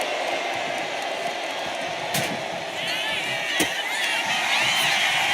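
Cheering arena audience in the WWE 2K26 wrestling video game during an extreme match, a continuous dense roar with a couple of sharp slam-like hits and rising whoops near the end.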